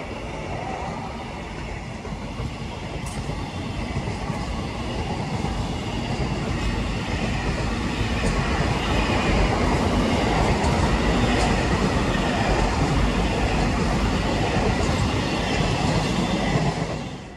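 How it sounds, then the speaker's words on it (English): Avanti West Coast passenger train passing through Stafford station at speed, a loud continuous rumble with rail clatter building and holding for the whole stretch before dropping away at the end. "there goes the 10:24 of Avanti West Coast service to London Euston via Birmingham New Street from Preston"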